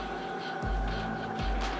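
A PMA wireless charging base for a Kyocera DuraForce Pro smartphone gives its power-on sound, two soft low descending tones about a second apart over a faint steady hum.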